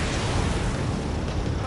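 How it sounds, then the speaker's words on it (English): A missile launch in the video game Ace Combat 7 comes across as a dense, continuous roaring rush of jet and rocket noise that holds steady for under two seconds, loud and without distinct peaks. "Spare 15, launching missile."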